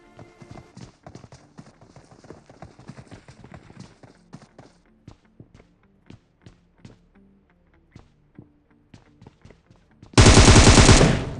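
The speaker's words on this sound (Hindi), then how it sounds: "यहाँ पे फुटस्टेप बिल्कुल ध्यान से सुनना" Footsteps in a video game, a regular series of sharp, close thuds for about ten seconds, then a sudden loud, dense burst of gunfire that fills the final second or so.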